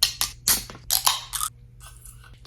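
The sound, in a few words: opening a cold drink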